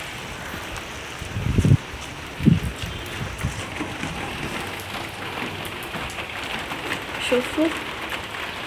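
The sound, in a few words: rain shower falling outdoors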